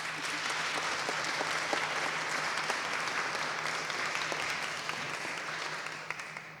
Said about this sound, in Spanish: Así que quiero que lo reciban, por favor, con un gran aplauso.